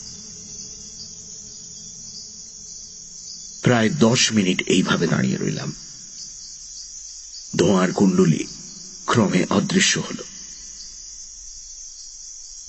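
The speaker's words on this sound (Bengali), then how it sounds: "বনে ঝিঝির ডাক ছাড়া আর কোনো শব্দ নেই।" Crickets chirp steadily in a Congo forest, a constant high-pitched trill running the whole time. A narrator speaks over it in several stretches.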